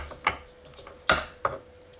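Tarot cards are shuffled by hand, giving a few sharp papery snaps and riffles at uneven intervals, close and fairly quiet, with no talking in between.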